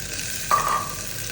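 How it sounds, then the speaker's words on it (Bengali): Mung dal stirred in a pan tempered with bay leaf and dried red chilli: a soft continuous sizzle with a brief scraping stir midway, close and moderately loud, no voices. "ডালটা দিয়ে একটু নাড়াচাড়া করে"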